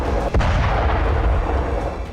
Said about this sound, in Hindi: न बारूद का फटना रुक रहा है, न रूसी मार्का टैंक तोप का गरजना